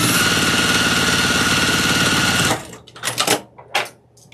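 A sewing machine runs a quarter-inch seam around a quilt block, a loud, fast, steady motor chatter for about two and a half seconds before stopping, followed by a few scattered handling clicks.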